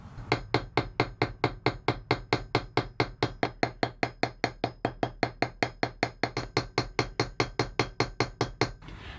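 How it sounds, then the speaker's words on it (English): A ball peen hammer peens over the ends of a brass pin in a small workshop, with a steady run of about thirty-five sharp, evenly spaced metallic taps, close and clear. "we're just going to use a ball peen hammer and carefully peen over the ends."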